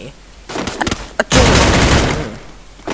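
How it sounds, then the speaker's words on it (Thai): Gunfire in the shooting game Free Fire with a P90: a few quick shots, then a loud, sustained burst of rapid automatic fire that trails off, close and harsh. "โอ้ยมันยิงมา มันยิงมา"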